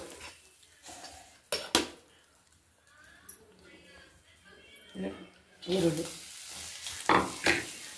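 Garlic cloves dry-roasting in a home kitchen pan without oil, heard as scraping and clinks of stirring with soft sizzling, the sounds coming in irregular bursts, louder near the end, while voices talk nearby.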